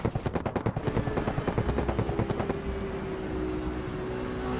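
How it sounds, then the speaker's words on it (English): Engine of a 1000+ horsepower car in Assetto Corsa heard from the cockpit view, a loud rapid pulsing rattle that settles into a steady droning hum, with no talk. "Let's go into first person view and just listen to this car."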